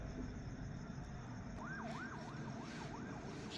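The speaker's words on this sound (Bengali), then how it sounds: "ইতিমধ্যে ফায়ার সার্ভিসের গাড়ি রাস্তায় আছে, আপনারা নিশ্চয়ই শব্দ শুনতে পাচ্ছেন।" A fire service truck's siren on a road in Godagari, Rajshahi, wails in a rising and falling cycle, faint and distant at first, over a constant low traffic rumble.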